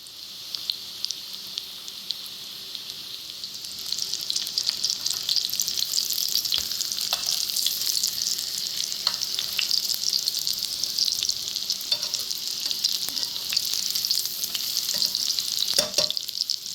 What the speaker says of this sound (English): We're going to fry all 4 of these until they're golden brown on both sides.